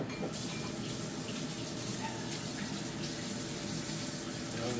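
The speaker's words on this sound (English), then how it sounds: "So I'm gonna wash my mouth now." Tap water runs steadily into a sink while someone rinses their mouth after eating spicy chili crab pasta, a close, continuous splashing hiss that fills the whole stretch with no talking.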